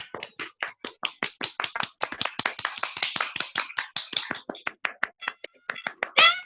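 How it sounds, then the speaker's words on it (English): An online audience gives a round of applause, a dense run of sharp, close claps and snaps at moderate level with no voices, ending in a slightly louder burst. "with a round of applause, unmute your mic"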